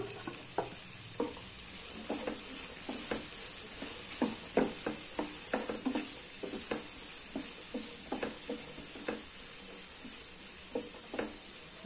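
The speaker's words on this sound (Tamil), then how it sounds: "இப்போ இதுல ஒரு கேரட்டும் ஒரு 5-6 பீன்ஸும் கட் பண்ணி வச்சிருக்கேன், அதை போட்டுக்கலாம்." Carrot and beans sauté in a pan, a soft steady sizzle under repeated clicking stirs of a spoon scraping the pan, quiet and close with no talk.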